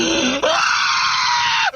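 A man's loud, raw scream plays from a recording. It cuts in sharply and holds steady and strained for over a second before breaking off.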